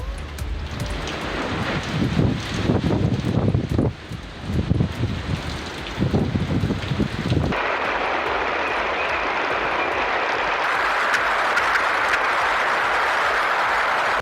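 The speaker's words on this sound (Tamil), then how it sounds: "மணிக்கு 260 கிலோமீட்டர் வேகத்தில் சூறாவளி காற்றுடன் பலத்த மழை கொட்டி தீர்த்தது" Typhoon Ragasa lashing the Philippines with fierce winds and heavy rain: loud, continuous roaring wind and driving rain with gusty surges at first, then a steadier, dense hiss of downpour.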